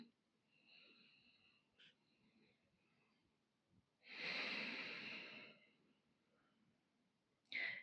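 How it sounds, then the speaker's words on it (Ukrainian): During a yoga session for back health, a person takes slow deep breaths, a long airy exhale swelling loudly near the middle, with fainter quiet breaths around it and a short sharp inhale at the end. "Дихання глибоке."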